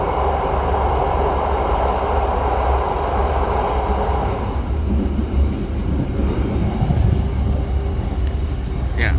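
Singasari executive passenger train running on double track, heard from on board as a loud, steady rumble of wheels and carriage noise that shifts partway through, with some talk faintly underneath.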